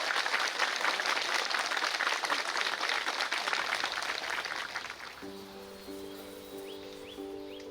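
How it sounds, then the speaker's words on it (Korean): Big applause at a Korean Zen Buddhist temple event, a dense round of clapping that fades after a few seconds into quieter background with sustained musical tones. "큰 박수 부탁드리겠습니다"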